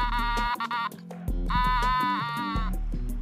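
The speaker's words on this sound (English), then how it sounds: "I don't know if you heard my sheep." Sheep bleating in the video game Fall Guys, a loud, close, wavering baa repeated in several drawn-out cries, clear and alone with no voices over it.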